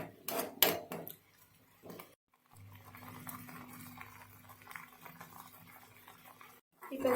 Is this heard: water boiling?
yes